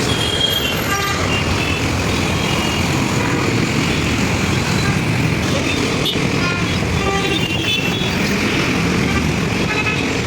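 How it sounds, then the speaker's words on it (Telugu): Road traffic jammed on the streets of Hyderabad, a continuous loud rumble of engines and vehicles with repeated car horns honking near and far. "ఇక్కడైతే ట్రాఫిక్ జామ్ అయితే చాలా ట్రాఫిక్ జామ్ ఉంది"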